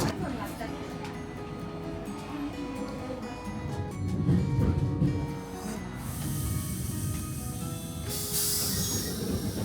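A Nagasaki tram rolls along its rails with rumbling wheels, squeals and clatter, heard from nearby through a steady noisy background with voices talking.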